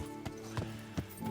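Horse hooves clop in a slow, steady rhythm in the medieval game Kingdom Come: Deliverance, with three or four distinct hoofbeats over a continuous tonal game background.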